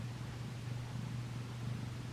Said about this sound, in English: He's purring like a motorboat.